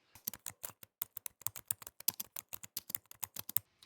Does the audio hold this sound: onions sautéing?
no